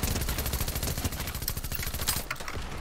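SMG gunfire in Fortnite rattles off in rapid, dense bursts, fairly quiet and somewhat muffled, continuing throughout with a few louder cracks.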